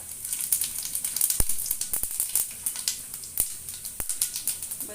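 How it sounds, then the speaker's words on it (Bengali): Whole cumin seeds sizzle in hot oil with a faint, steady hiss dotted with rapid tiny pops and a few sharp crackles, heard quietly and alone. "তেলটা গরম হয়ে গেলে দিয়ে দেব সামান্য পরিমাণে জিরা আস্ত জিরা তো দিয়ে দিচ্ছি আস্ত জিরা"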